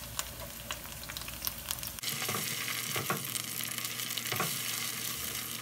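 Frying callaloo greens hiss steadily in a pan, the sizzle jumping louder and denser as crushed tomato goes in partway through, with a few scraping stirs over the continuous crackle.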